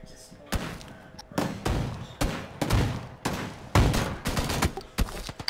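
Pistol gunshots in a shooting video game ring out in a quick irregular series of sharp cracks, loud and close, with a few heavier thuds mixed in.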